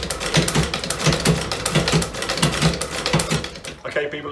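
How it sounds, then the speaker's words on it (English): A sewing machine runs a line of stitching down the back of a desert boot, giving a rapid, steady mechanical clatter with regular rhythmic pulses, close and fairly loud, stopping just before the end. "Now what I'm gonna do is just run a line of stitching down the back, just to really anchor it in place"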